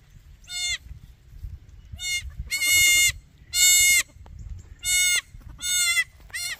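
Newborn goats bleat loudly and repeatedly, about seven sharp, nasal cries in quick succession, close by, with soft rustling between calls.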